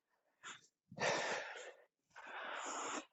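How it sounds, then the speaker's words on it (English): Heavy, wheezy breaths after a full-body warm-up workout: three separate close exhalations, a short one followed by two longer, louder ones, with silent gaps between. "I'm breathing heavy"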